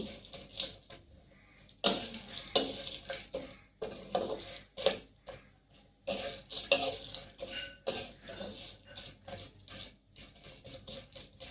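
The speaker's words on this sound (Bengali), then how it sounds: "এই যে দিয়ে দিচ্ছি, হালকা ভেজে নিব" Ingredients stirred and tossed in a pan for spicy chaat noodles, with metal utensils clinking and scraping against the cookware in irregular bursts, fairly close and moderately loud, with no talk.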